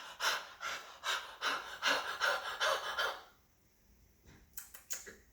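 Heavy, rhythmic breathing demonstrated during a fitness explanation, a run of loud, rapid breaths for about three seconds, then a pause and a few softer breaths near the end.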